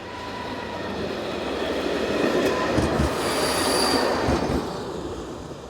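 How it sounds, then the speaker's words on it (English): A Czech Class 854 railcar pulls away north on a service to Mladá Boleslav, with a steady rumble that swells and then eases as it passes, and high, sustained wheel squeal throughout. No voices. "Here is another member of the class, number 854212, and this one departs north with a service to Mladá Boleslav."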